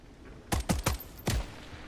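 Four sharp gunshots ring out in an extraction shooter video game, in a quick irregular burst with a short gap before the last one, each cracking loud against a quiet background.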